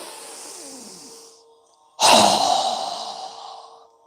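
A single strong, forceful exhale during a yoga breathing exercise, a sharp close breath burst after a quieter drawn-in breath.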